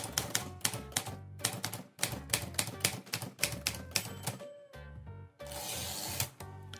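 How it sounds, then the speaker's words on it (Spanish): Rapid clacking keystrokes of a typewriter in a steady rhythm, close and fairly loud, with a brief pause and a burst of harsher broadband rattle near the end. "La máquina de escribir tuvo un impacto enorme en los entornos laborales."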